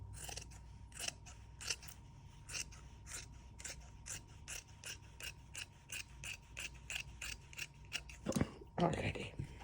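Scissors snipping bag lining fabric: a rapid series of crisp, close cuts in a steady rhythm, followed near the end by louder rustling of the fabric being handled, over a faint background hum.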